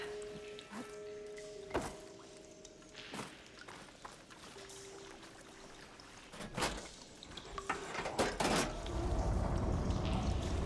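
Water flows through pipes in the video game Horizon Forbidden West: faint trickling and pouring with a few scattered thunks, swelling into a louder, steady rushing flow near the end.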